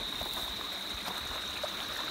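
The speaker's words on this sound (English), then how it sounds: "Oh, this is the river." River flowing over rocks beside a yam farm in Trelawny, Jamaica: a steady broadband rush of running water with a faint trickling texture and a constant high whine, continuous and fairly close, with no talk.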